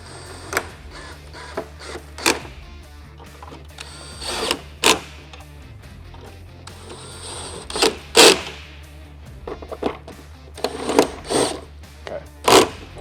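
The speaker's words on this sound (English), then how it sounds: "We'll take our T27 Torx. We'll go ahead and reinstall these." A T27 Torx driver reinstalling headlight screws on a 2023.5-or-later Harley Street Glide gives short bursts of mechanical whirring and clicking, separated by pauses, close up and fairly loud.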